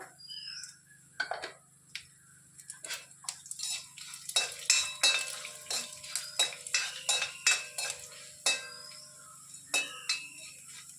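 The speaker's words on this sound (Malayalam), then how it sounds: "കടുക് പൊട്ടിത്തെറിക്കുന്നുണ്ട്." Mustard seeds crackle and pop in hot oil with curry leaves and lentils added. Sparse pops and spatula clinks at the start build into a dense run of sharp, close crackles and stirring scrapes.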